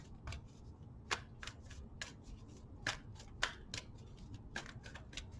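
Tarot cards riffled and shuffled by hand in a quiet room, a string of soft crisp flicks and snaps spread across several seconds, fairly close and faint, with no talking.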